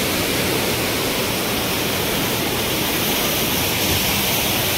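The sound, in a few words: waterfall near a Ganpati temple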